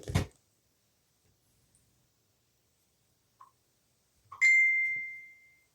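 A phone notification gives a single bright ding that rings and decays over about a second in a quiet room, following a few faint clicks and taps.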